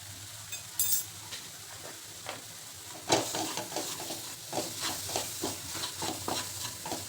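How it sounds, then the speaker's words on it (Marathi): Spoon stirring a carrot modak stuffing mixture with sugar and cardamom powder in a pan, giving repeated soft scraping strokes with faint sizzling, close and fairly quiet, no talk. "असं साखर विरेपर्यंत आपल्याला ह्याला मिक्स करून घ्यायचे"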